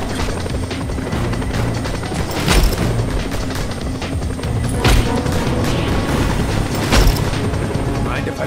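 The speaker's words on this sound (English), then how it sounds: "Deal with that chopper, Rico, quickly!" A helicopter in the game Just Cause 2 gives off a loud, continuous rotor roar with a rough, churning texture, broken by several sharp impacts and bangs spaced a few seconds apart.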